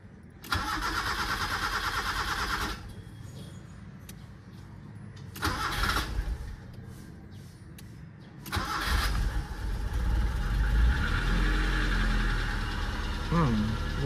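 A Nissan Sentra B14 car cranks twice in short bursts during a test drive, then catches on the third try and settles into a steady, close idle.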